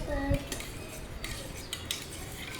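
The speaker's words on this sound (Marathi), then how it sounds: "आता आपण या लिंबू सरबतला हलवूया" Metal spoon stirring lemon sherbet (limbu sarbat) in a glass, quiet clinks and scraping taps against the sides repeated irregularly at close range.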